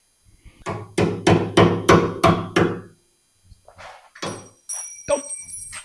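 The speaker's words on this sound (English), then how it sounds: "That's going to need a little convincing, maybe from a hammer." A hammer knocks a metal brake line into its groove on a Model A frame: six sharp, evenly spaced strikes, a short pause, then a few scattered, lighter knocks, all close and loud.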